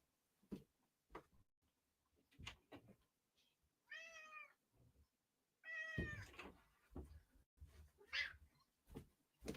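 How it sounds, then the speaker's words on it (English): A pet cat named Merlin meows at the door in a few distinct, close calls spaced across a quiet room, mixed with soft knocks and handling thumps. "Here's the cat."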